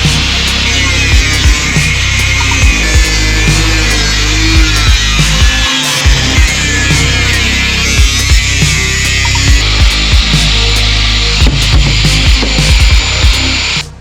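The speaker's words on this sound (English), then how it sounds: "I need the seat to fit, so we're gonna have to get the grinder out." An angle grinder cuts for bucket seat clearance inside a race car, a loud, continuous harsh grinding whine with rasping metal-on-metal texture that runs nearly unbroken for the whole stretch, dipping only briefly.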